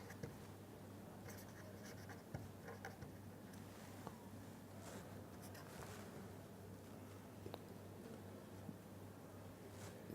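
Chalk or marker writing on a board during an engineering lecture on multi-storeyed building frame design, a faint scratchy patter of strokes over a steady low hum.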